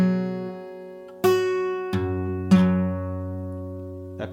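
An acoustic guitar plays a passage from a song, slow and deliberate. A few separate plucked chords and bass notes are left to ring and sustain, close and clean, with no talking.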